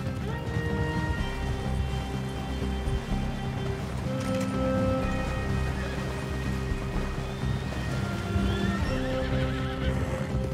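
Rapid hoof clip-clops of a galloping horse in the video game Red Dead Redemption, with occasional whinnies, layered over steady tonal background music.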